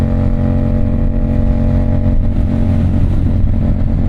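A sport-style motorcycle engine revs steadily and loudly throughout, a dense continuous roar with no talk over it.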